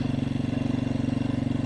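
A 2021 Beta 500 RRS motorcycle rolls slowly in first gear through snow on a Colorado ride, its engine giving a close, steady, evenly pulsing low throb.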